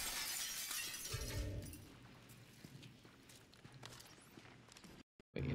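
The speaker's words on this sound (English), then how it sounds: "Could have just broken glass" Glass shatters in the Callisto Protocol video game, a loud bright crash at the start that fades into scattered tinkling debris and faint movement, ending in a brief cut to silence.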